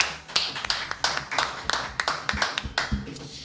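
Scattered clapping from a small group, sharp and uneven, with a faint murmur of voices underneath.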